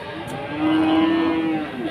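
A Bali cow at the Gurugok livestock market lows once, long and fairly close, over a steady crowd and market rumble.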